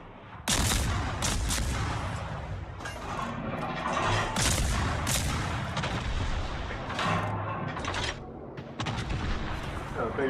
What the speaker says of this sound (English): Bayern's shooting the Warship.